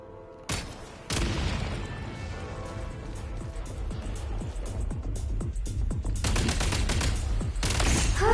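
Rapid gunfire and heavy booms from the Genshin Impact video game, a sustained dense barrage of shots running throughout, loud and continuous with rising intensity near the end.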